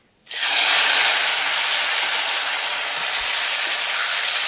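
Two chopped medium tomatoes drop into hot oil for a winter-vegetable khichuri, setting off a sudden, loud, hissing sizzle that holds steady and close with no talking.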